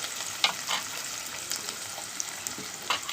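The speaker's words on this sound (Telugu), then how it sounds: "ఒక రెమ్మ కరివేపాకు, 2-3 పచ్చిమిర్చి అండి. కొంచెం బాగా వేగాలి." A sprig of curry leaves and two or three green chillies fry in hot oil with a soft, steady crackling sizzle, a few sharper pops, and no voices.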